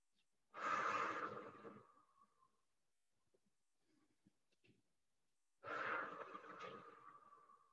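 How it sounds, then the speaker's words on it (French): Slow, deep breaths are taken while holding a seated Pilates position in a quiet room. Two long, breathy exhalations sound close to the microphone, about five seconds apart. "on fait 3 respirations"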